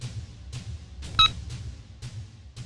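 Telephone dialing tones sound as a series of short, evenly spaced electronic pulses about every half second, with one brighter beep in the middle, alone and fairly clear.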